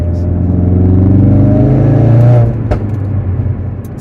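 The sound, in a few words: Ford Focus RS MK3 Hendy HP500 engine and exhaust revving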